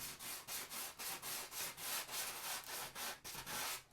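Hand sanding on a bathroom wall being prepped for joint compound and spackle: steady, rhythmic back-and-forth scraping strokes, about three per second, close and loud, with no talking.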